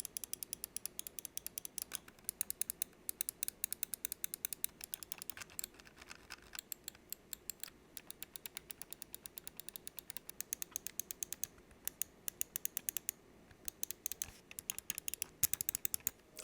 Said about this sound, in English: The switches are the exact same ones on the Model O, the same Omron switches, super duper clicky, excellent sound, super tactile as well.